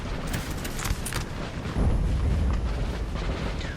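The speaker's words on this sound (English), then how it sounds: "That's some of the good musket fire into the enemy" Massed musket volleys crackle and boom across a line battle in Napoleon Total War at Leipzig, a dense rolling wash of distant gunfire with sharper reports rising above a continuous low rumble.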